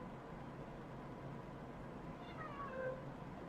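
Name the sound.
cat meowing in the video game Genshin Impact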